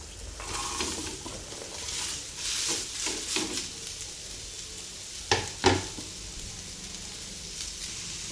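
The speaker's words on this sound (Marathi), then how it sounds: "आता त्याच तव्यावरती इथे मी कांदा टाकून घेत आहे." Onion hits a hot griddle already used for roasting coconut for a non-veg masala paste, sizzling steadily, with a few sharp stirring clicks and scrapes partway through.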